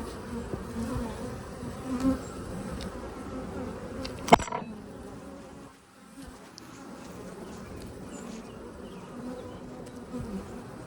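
A steady, dense buzzing of many honey bees in a hive fills the whole stretch, with a brief sharp click partway through and no talking.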